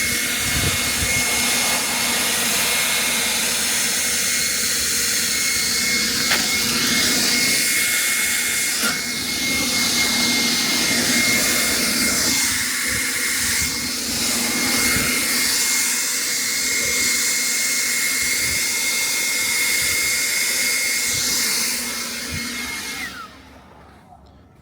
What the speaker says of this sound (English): I have a leaf blower here.